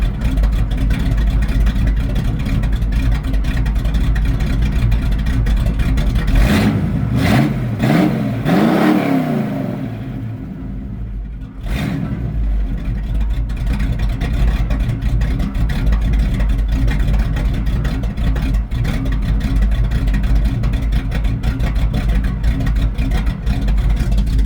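A 1987 Chevy K5 Blazer truck's engine idling loud and close with a low rumble, rising in a couple of quick revs midway before settling back to a steady idle; no one talks.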